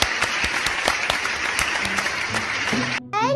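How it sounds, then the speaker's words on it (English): Applause for a child named Hanum after a multiplication lesson, a small group clapping briskly and fairly close, sharp individual claps for about three seconds before cutting off into a short electronic sound effect. "Give applause for Hanum!"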